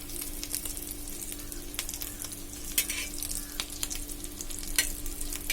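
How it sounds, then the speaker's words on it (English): A chicken patty shallow frying in oil in a pan, with a steady close sizzle and crackle and occasional sharper pops, heard alone without talk. "now let the bottom side of it be fried, shallow fried, to get the same color as we need"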